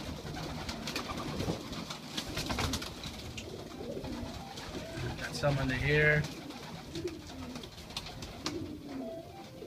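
Domestic pigeons, including blue check and splash raspberry young birds, coo in a loft, a soft repeated cooing rising clearly around the middle under ongoing talk and rustling.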